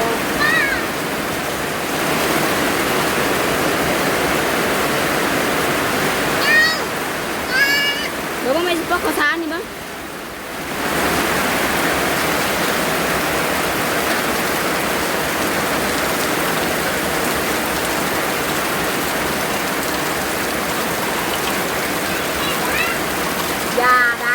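Heavy rain pouring down steadily in a rural Thai setting, a dense continuous roar of drops on surfaces heard close up, with people talking intermittently over it and a brief lull midway.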